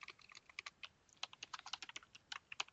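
Rapid typing on a computer keyboard, a quick uneven run of light clicking keystrokes with short pauses, close and fairly quiet, with no voice over it.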